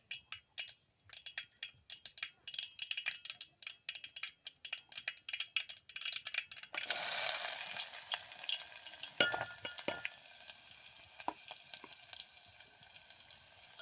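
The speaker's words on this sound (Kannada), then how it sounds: "ಈ ಸದ್ದು ನೋಡ್ರಿ ಫ್ರೈ ಆಗ್ಯಾವ್ರಿ" Chopped onions dropped into hot oil with cumin and mustard seeds, first scattered popping crackles, then a sudden loud burst of sizzling that settles into steady frying with occasional stirring clatter, close by.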